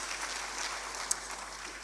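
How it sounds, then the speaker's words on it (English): Steady applause from an audience at the Azerbaijan National Urban Forum, honoring the speakers; a dense, even wash of clapping fills the whole moment with one sharper clap standing out, and no one speaks. "I would like to invite you to applaud to them."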